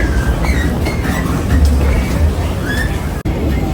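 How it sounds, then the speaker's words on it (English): Boarding a train to Paris: a loud, close rumble of the carriage and platform surroundings, with faint squeaks and bumps under it and brief muffled voices. "boarding the train now"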